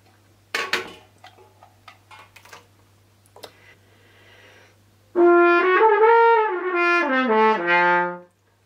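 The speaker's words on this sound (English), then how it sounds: "The other kind of mute we use is called a straight mute," A French horn played with a straight mute plays a soft, veiled phrase of several connected notes that step downward. It is heard alone and close, after a few light taps and handling clicks.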